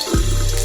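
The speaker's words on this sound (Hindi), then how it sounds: "मेरे ऊपर पानी क्यों फेंक रही हो तुम?" Water splashes onto a person in a short indoor burst, a loud continuous rush that fills the clip with no talking.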